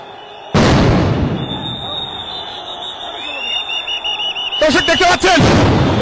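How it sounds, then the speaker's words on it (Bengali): Police sound grenades thrown at protesting teachers near the Secretariat go off in two loud, sharp blasts a few seconds apart, the first followed by a lingering ringing tone, with voices in the crowd. "সাউন্ড গ্রেনেড মেরে কিন্তু শিক্ষকদের ছত্রভঙ্গ করার চেষ্টা করছে পুলিশ সদস্যরা"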